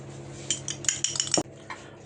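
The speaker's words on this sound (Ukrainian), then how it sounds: "тепер беремо яєчко збиваємо його" A fork or whisk clinks quickly against a bowl as an egg is beaten for brushing Georgian kubdari pastries, a short burst of bright metallic ticks, close and alone.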